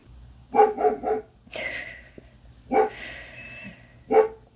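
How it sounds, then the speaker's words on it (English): A guard dog barks outside, nearby and loud: a quick burst of three barks, a pause, then two single barks a second or so apart. "My guard dog's just doing their job outside."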